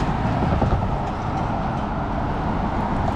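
A train rolls past a road crossing with fast cross traffic, producing a loud, steady low rumble and rattle that stays close and constant throughout, with no voices.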